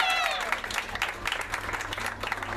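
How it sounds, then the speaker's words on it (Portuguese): Applause at a Brazilian fifteenth-birthday party for the girl being honoured, lively clapping in a room with music and a few voices mixed in, rising and falling in uneven bursts across a couple of seconds. "Aplausos para a nossa homenageada"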